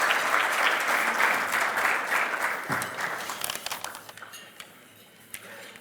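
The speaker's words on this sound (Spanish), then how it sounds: "Lo recibimos con un aplauso, Hernán Lacunza" Dinner guests at a year-end gathering at the Bolsa de Comercio applaud in a full round of clapping that gradually fades into scattered individual claps, with faint clinks of dishes and cutlery beneath.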